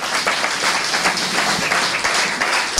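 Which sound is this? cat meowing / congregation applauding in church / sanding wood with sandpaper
congregation applauding in church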